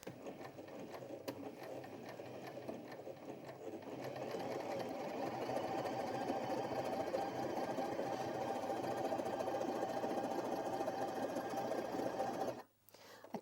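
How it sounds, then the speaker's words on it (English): A Janome J3-20 sewing machine stitches a stretch stitch through stretchy fabric, starting with a few quiet mechanical clicks before settling into a steady, fairly slow whirring chatter that stops abruptly near the end. "I tend to go a little slower when sewing stretch stitches"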